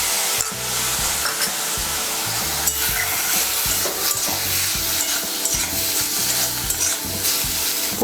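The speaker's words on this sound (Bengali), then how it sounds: "পোস্তটা ভালো করে ডিমের সঙ্গে মিশিয়ে নেব।" Poppy seed paste being stirred into egg in a pan, a loud, close sizzle with rhythmic scraping and rubbing strokes repeating throughout, no talking.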